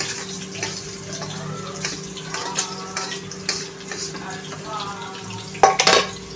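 Sliced onion and green chillies frying in oil, a soft steady sizzle with stirring clatter and a louder burst of scraping near the end.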